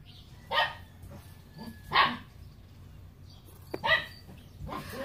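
Three or four sharp dog barks ring out a second or so apart, moderately distant, with no one talking.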